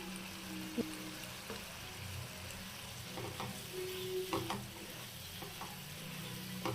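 Tomato curry with added water simmering on a low flame, giving a soft, steady sizzle and bubbling with a few faint utensil clinks and taps.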